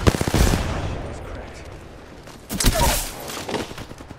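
Rapid gunfire rattles in the Apex Legends shooter game, with a dense burst at the start and another volley after a short lull, close and loud with fainter clatter between.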